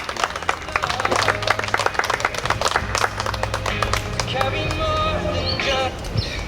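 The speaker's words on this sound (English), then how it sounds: "Everybody, please give a huge round of applause to congratulate our newlyweds." Wedding guests applaud newlyweds just pronounced husband and wife at a 2021 ceremony, a dense, steady patter of many hands clapping, with voices and a low hum mixed in beneath.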